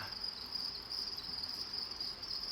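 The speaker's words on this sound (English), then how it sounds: "these are obviously some crickets that are becoming adults. You can hear all the chirping behind me" Steady high-pitched chirping of maturing crickets on a cricket farm fills the background, a continuous shrill trill that stays even and moderately faint throughout.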